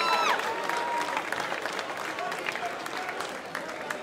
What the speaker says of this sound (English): a big round of applause for both these ladies after three excellent rounds of action